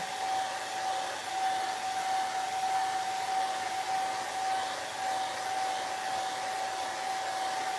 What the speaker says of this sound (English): It's kind of loud, so plug your ears. I'm just gonna let that dry a little bit